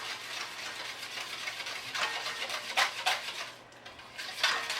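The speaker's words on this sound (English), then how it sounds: "Keep stirring so that it all mixes up well." A cream mixture is stirred in a bowl set on a towel, giving soft scraping and rubbing strokes of utensil against the bowl that come in uneven bursts, close by and fairly quiet.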